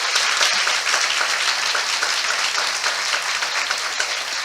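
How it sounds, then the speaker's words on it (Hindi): A church congregation applauding together during a sermon, steady dense clapping from many hands that fills the room loudly and continuously. "क्या हम यीशु के इस वचन के लिए ताली बजा सकते हैं?"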